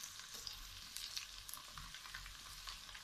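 Ginger, garam masala, cinnamon and bay leaves fry in oil in a pan for a chicken curry, giving a soft, continuous sizzle with light crackles and occasional stirring scrapes.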